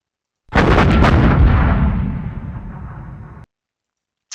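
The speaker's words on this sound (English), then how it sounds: "I'm going to close assault with my Mark IV." Wargame combat effect for a Mark IV tank close assault in Panzer Campaigns: a single loud cannon-like boom that rumbles and decays over about three seconds, followed by a tiny click.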